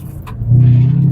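A 2013 Chevrolet Camaro SS V8 engine swells into a deep, loud rumbling rev heard from close by, starting softer and holding a strong low drone.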